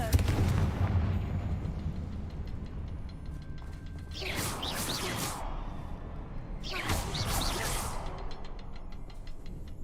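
Confringo, an explosive spell in Hogwarts Legacy, going off as two bright whooshing blasts about three seconds apart over a constant low rumble of game ambience, with no speech.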